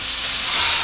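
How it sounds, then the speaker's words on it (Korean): Garlic, onion and paprika sauté over high heat in olive oil in a two-handled paella pan, giving a brief, close, steady hissing sizzle with no voices. "센 불에 올리브를 돌리시고 마늘과 양파와 파프리카만 볶겠습니다."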